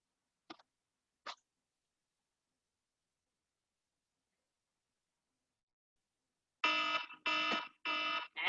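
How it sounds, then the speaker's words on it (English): A workout interval timer beeps, two faint short chirps at first, then after a long silence a loud run of sharp, evenly spaced electronic beeps. "I don't know if y'all can hear my timer, but that was it."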